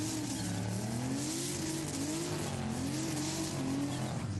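A Dodge Charger race car on the circuit at Le Castellet during a French championship, its engine droning steadily with rising and falling pitch as it shifts through gears, loud and continuous with faint tire noise.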